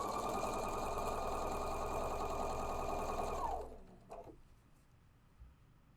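A sewing machine runs steadily, stitching two aligned fabric pieces held under light tension, a close, even mechanical whir that stops abruptly partway through, followed by a few faint handling clicks in near silence.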